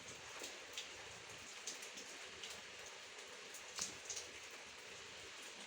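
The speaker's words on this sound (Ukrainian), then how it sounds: "Дощ іде." Steady light rain falling outdoors, a soft continuous hiss with occasional faint drip ticks, quiet and without any talking.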